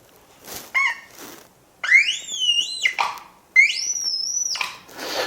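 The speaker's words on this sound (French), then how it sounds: "J'allume le synchromètre." Synchrometer device switched on and emitting electronic tones that sweep and rise in pitch in a few separate bursts, close and clear with no talk.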